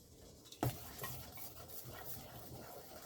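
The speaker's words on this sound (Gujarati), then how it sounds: "હલાવી લઈશું." A spoon stirs Surti locho batter in a bowl: one sharp clink against the side, then steady, soft scraping and swishing close by, with no talking.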